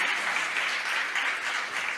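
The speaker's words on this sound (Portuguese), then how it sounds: "Você pode aplaudir o Senhor?" Congregation clapping in a church service during a sermon, a dense, even wash of applause filling the whole short stretch with no pauses.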